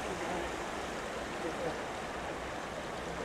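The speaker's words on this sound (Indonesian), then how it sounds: "Ini kita lihat air terjun di dalam kan." An indoor waterfall inside a building at Marina Bay Sands in Singapore pours with a steady, broad rushing hiss, constant and fairly close, filling the space without pause.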